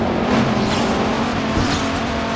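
Race cars roar through a session of the arcade racing video game Blur, a steady dense engine drone with tire noise that stays loud and continuous throughout, with no talking.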